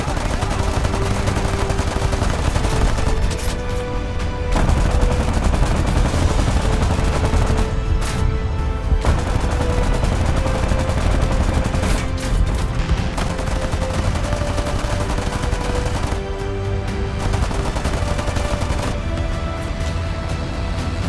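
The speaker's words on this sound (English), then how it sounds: "the Beaufighters unleashed their guns and strafed the now perfectly lined up ships in devastating fashion" British Bristol Beaufighter aircraft firing their guns in strafing runs against a convoy of Japanese transport ships in the Pacific War, dense continuous loud gunfire and roaring noise sustained throughout with brief dips, no speech.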